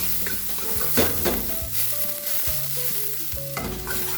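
Onion sizzling in a hot pan for a tomato sauce, a loud continuous crackle close by, with a utensil stirring and scraping through it in several strokes.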